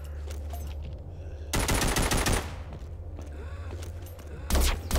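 Weapon fire in the video game Walking Zombie 2, with loud rapid automatic bursts in two clusters over a continuous low game soundtrack.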